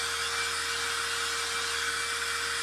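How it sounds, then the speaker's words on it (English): A small thrift-store hair dryer blows a steady, even whoosh with a faint motor whine, drying chalk paste on a tiered tray insert, close and alone throughout. "So I'm going to quickly dry this with my little handy dandy blow dryer"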